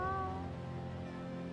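A cat meows in the video game Tales of Xillia 2, one short tonal cry near the start that fades into steady game background sound.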